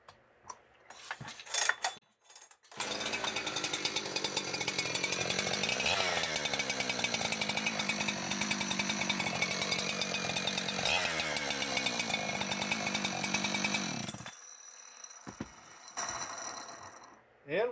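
A Stihl-style chainsaw fitted with an aftermarket exhaust pipe sputters to life after a few pulls, then runs in a loud, raspy, high-pitched scream with a couple of throttle swells before dropping back to idle.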